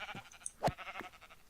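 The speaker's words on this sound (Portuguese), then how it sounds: "Usando uma espada, podemos matar a nossa ovelha." A Minecraft sheep gives one short bleat as a sword strikes it, clear and close, with quiet game sounds around it.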